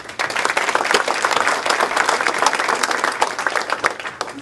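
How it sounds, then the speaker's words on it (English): A crowd at a Madison Heights–Hazel Park State of the Cities event claps loudly and continuously for the mayor, dense close applause with sharp individual claps standing out throughout. "One more hand of applause for Mayor Grafstein."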